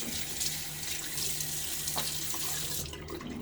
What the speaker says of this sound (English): let us throw some water on my face